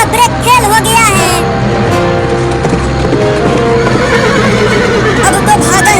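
A horse whinnies loudly nearby amid busy street noise and mechanical clatter, the neigh rising early then fading as the scene continues, with a voice talking over it.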